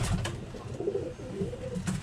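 A Birmingham Roller pigeon cooing close by in a loft, low throaty coos repeating in a soft, steady rhythm with no talk over them.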